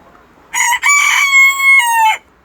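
An İspenç rooster gives a single thin, high-pitched crow, close and loud, in one sustained, slightly broken call about one and a half seconds long against a quiet background.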